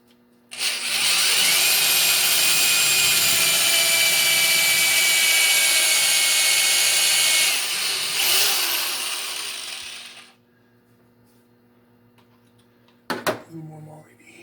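A power drill held in a drill guide whines loudly and steadily for about ten seconds while boring a hole during a DRO fit on a lathe, its pitch shifting near the end before it winds down, followed by brief clatter.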